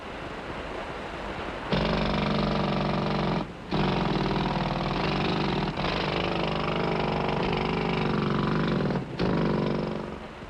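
Coal mining machinery roars loudly and steadily with a droning mechanical hum, cutting out briefly twice before surging back, close and unbroken by talk.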